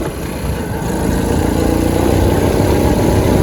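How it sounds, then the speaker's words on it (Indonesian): An original Honda Astrea 800 motorcycle engine labors up a long hill, a close, rough, steady drone that grows slightly louder and denser after the first second, with no voices. "Kita bakalan lihat apakah motor Astra 800 original ini mesinnya bakalan kuat nanjak di tanjakan yang lumayan panjang ini ya barudak."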